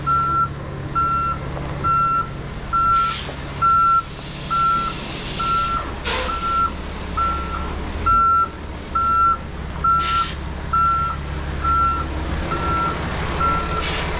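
A dump truck unloading on a backyard job site sounds a steady, regular string of loud backup beeps over its low rumbling engine, with a few sharp hissing bursts mixed in and no talking.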